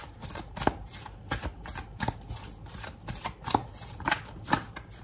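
A deck of tarot cards being shuffled by hand, rapid riffling flutters with sharp slaps in quick succession, close and clear with no talking.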